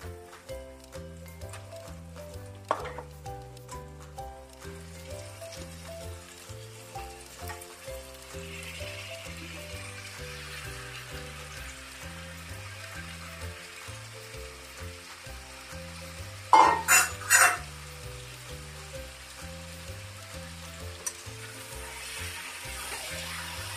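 Chicken for Assamese-style home-cooked pepper chicken goes into a hot pan and sizzles steadily. Several loud bursts of stirring and scraping come midway over a background of soft, repeating rhythmic music, with no talking.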